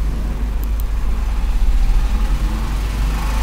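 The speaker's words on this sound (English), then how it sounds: "and the engine runs for some time." A four-cylinder engine runs steadily on a test bed during a Morse test, giving a loud, continuous low rumble and drone throughout with no talking.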